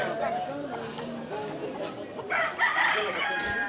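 A rooster at a cockfight on Nusa Penida, Indonesia, crows out over a noisy crowd, people chattering and talking throughout, the crow rising loud near the end.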